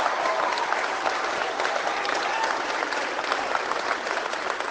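A large political rally crowd of around 2,500 people in Stoney Creek claps and cheers in a steady, dense wash of applause, fairly loud and sustained throughout, with some voices mixed in.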